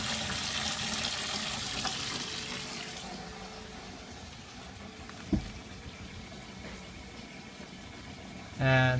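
Cold water runs steadily from a tap into a bucket in a water temperature and level control system, a soft continuous splashing rush with a brief knock midway and a clunk at the end.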